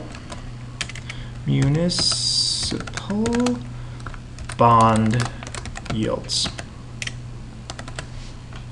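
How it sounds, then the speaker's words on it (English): Typing on a computer keyboard while entering a series name in a spreadsheet, with bursts of quick close key clicks between and under a person talking. "We can type in the series name."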